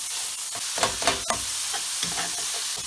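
Minced meat sizzles steadily in a hot pan while a utensil scrapes and stirs it every so often, close and clear with no voices.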